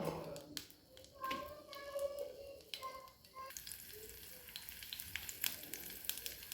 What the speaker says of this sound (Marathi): पॅनमध्ये तेल घातलेलं आहे त्यामध्ये मिरच्या घालून घेऊ